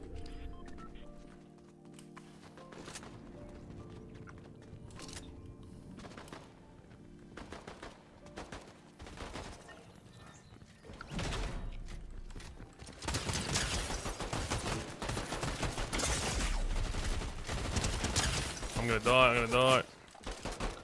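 Rapid automatic gunfire in Fortnite, dense repeated shots building from scattered pops into heavy sustained firing in the second half, mixed with game effects.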